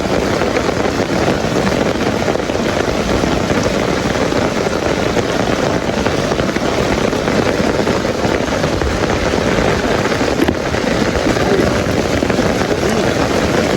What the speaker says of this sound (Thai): ตอนนี้ฝนตกหนักแล้ว